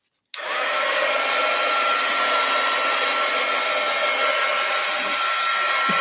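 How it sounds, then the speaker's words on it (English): A heat gun switches on abruptly and blows hot air in a loud, steady roaring whoosh with a faint whine, running unbroken and close-up while an art journal is being worked on. "Let me do the heat gun thing here."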